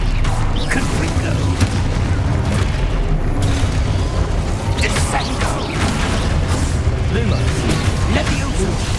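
Hogwarts Legacy gameplay during spell casting, including the Confringo blast spell, with dense booming bursts and crackling impacts layered over a constant loud musical and effects bed throughout.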